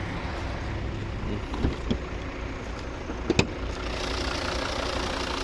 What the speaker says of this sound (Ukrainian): Ось наш е, знаменитий двигун п'ятициліндровий, вольвовський